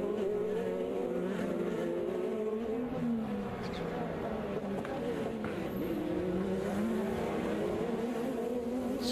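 IndyCar race cars on the Detroit street circuit during the 2017 Race 2 scream past at speed. Their engines hold a continuous, loud, wavering whine throughout, with a commentator's voice over the top.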